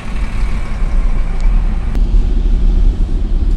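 Congested traffic on Marcos Highway near SM Marikina, a continuous low rumble of cars, trucks and buses crawling along, steady and fairly loud, with a brief sharp sound partway through.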